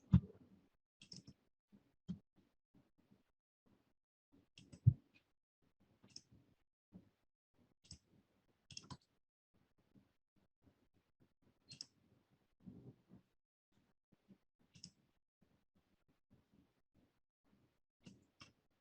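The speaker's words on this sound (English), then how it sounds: "Let's right click on that and click on view data." Sparse, quiet computer mouse clicks while working in SPSS Modeler, single and double clicks scattered with long silent gaps between them.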